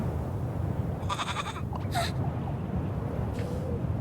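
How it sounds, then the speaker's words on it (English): A goat in a horror video game lets out a couple of short, wavering bleats over a low droning ambience, with a brief sharp cry near the middle and a faint call near the end. "The goat."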